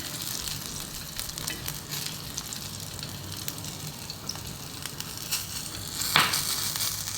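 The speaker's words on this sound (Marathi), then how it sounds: "मिरच्या तेल टाकून भाजून घेतल्या." Green chillies roast in hot oil in a pan, a steady close sizzle and crackle with occasional stirring scrapes and a louder hiss near the end, no talk.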